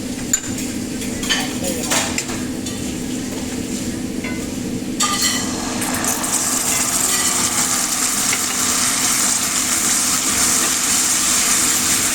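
Sauce mix of honey and white sugar hits frying chicken wings in a pan, bursting into a loud, steady sizzle after a few soft stirring and scraping sounds at the start.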